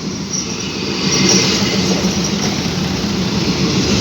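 A diesel railcar rolls through Ban Phachi junction railway station with a loud, steady rumble and faint wheel squeal, close by and continuous throughout, with no talking.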